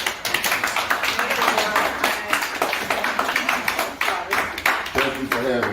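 Audience applause for a business alliance leader at a morning show event, a steady wash of clapping with sharp individual claps, fairly close, with voices mixed in underneath.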